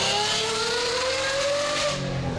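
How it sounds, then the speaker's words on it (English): A straight-piped BMW V12 engine in a luxury limousine gives a loud, close, steady intake-heavy roar with a slowly rising whine, heard alone without talk. "It sounds like a Rolls-Royce Trent engine just sucking in air, and that is a really unique sound that I've never heard before"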